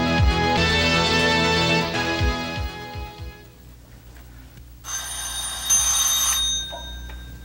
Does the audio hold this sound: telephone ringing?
yes